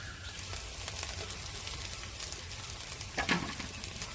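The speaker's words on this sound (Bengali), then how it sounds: "এবার দিয়ে দেবো ধনে মৌরি জিরে গোলমরিচ আর শুকনো লঙ্কা বাটা একসঙ্গে বেটেছিলাম দিয়ে দেবো" Ground paste of coriander, fennel, cumin, black pepper and dry chilli hits a hot pan for egg masala, a soft steady sizzle with one brief clatter near the end, faint and close.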